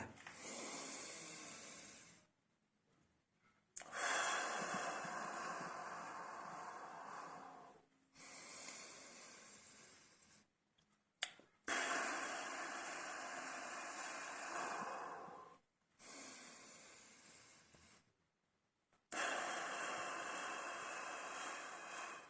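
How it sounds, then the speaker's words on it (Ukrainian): Several long, breathy exhales through pursed lips during a breathing exercise, each a steady hiss of air lasting a few seconds and separated by short silent pauses, close and fairly quiet. "Губи треба робити таким от трубочкою і видихати."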